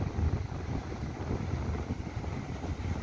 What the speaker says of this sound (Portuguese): Não temos sol, ventando bastante.